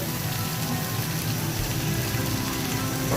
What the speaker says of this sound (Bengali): এখন আমি এর মধ্যে পানি দিয়ে সেদ্ধ হওয়ার জন্য।